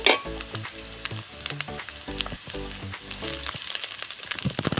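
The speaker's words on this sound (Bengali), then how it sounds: "আদাটাকে ভেজে নিতে হবে মশলাটা আমি ভালো করে ভেজে নেব" Crackling sizzle of ginger and spices frying in hot oil runs steadily beneath loud rhythmic music, with occasional sharper pops rising toward the end.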